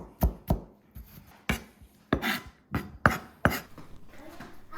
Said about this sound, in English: Peel the skin off and start chopping until it's small enough to be mixed thoroughly